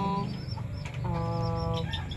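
Bantam chickens in a countryside yard cluck and chirp as they feed, several short calls overlapping at close range against a low steady background.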